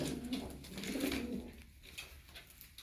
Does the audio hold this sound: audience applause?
no